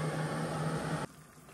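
Water boiling in a pot on a lightweight camp stove gives a steady rushing hiss with a low hum, then drops abruptly to a quieter background about a second in.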